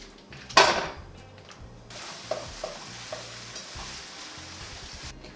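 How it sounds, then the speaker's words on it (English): One pound of 80-20 ground beef browns in its own fat in a pan, a steady close sizzle broken by a loud scrape and clatter near the start and several light utensil taps as the meat is stirred. "we're going to brown 1 pound of 80-20 ground beef in this pan here"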